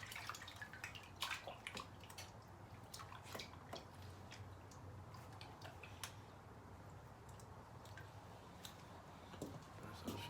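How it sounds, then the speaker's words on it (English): Tap water runs in a thin, steady stream while a knife blade is rinsed under it, with scattered sharp ticks and drips from the blade knocking against the sink. The sound is faint and continuous, with no talk. "And then I'll rinse it off in water again."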